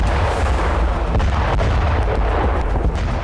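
A loud, sustained, rumbling roar fills the whole stretch, heavy and deep: a Russian 1.5-ton ODAB-1500 glide bomb exploding on the Vovchansk front.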